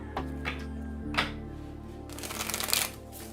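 A deck of tarot cards is shuffled in two or three quick riffling bursts close by, soft rustling and flapping against a steady low hum, with no talking.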